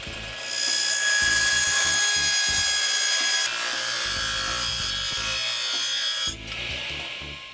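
A saw works back and forth through a cedar wood guardrail for an RV cabinet, making steady, loud rasping strokes that run close and continuous, with a brief pause near the end.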